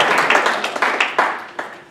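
Scattered, uneven clapping from a lecture-hall audience of marketing students, a handful of distinct claps rather than a full ovation, fairly near and fading toward the end.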